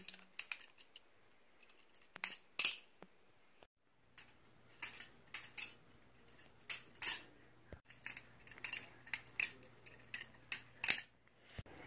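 A butterfly knife trainer flipped repeatedly, giving a series of sharp metallic clacks and jangles in irregular bursts, close and clear against a quiet room.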